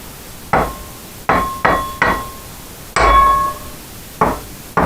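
Hammer blows on a motorcycle swingarm being straightened, six sharp metallic strikes at an uneven pace, close and loud, each ringing briefly, with one longer ringing hit midway.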